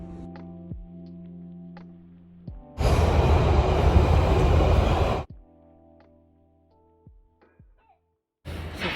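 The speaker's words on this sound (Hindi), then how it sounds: "यहाँ पे हम वेटिंग फॉर मेट्रो" A London metro train rushes loudly through the station for a couple of seconds amid quieter platform hum and clicks, then another train's roar begins at the end.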